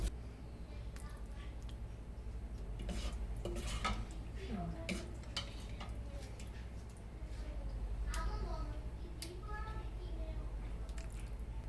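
Chili prawns are scraped and spooned from a pan into a serving bowl, with clinks of metal utensil against cookware and soft wet squishes, moderately close and intermittent, under a quiet background.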